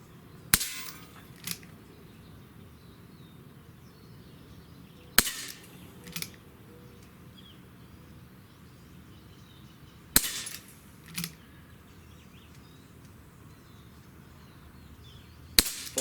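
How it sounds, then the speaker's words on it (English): A Colt Python .357 revolver fires outdoors: four loud, sharp shots spaced about five seconds apart, each followed by a fainter echo or click, with quiet in between. "we'll just take 6 shots because it's a 6-shooter"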